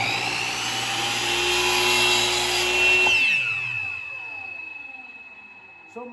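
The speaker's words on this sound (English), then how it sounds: "Grab onto the miter saw," A miter saw cuts a picture frame board: a loud, close high-pitched whine of the blade spinning, then the motor powers down and spins out into a fading descending whir, ending with a small click.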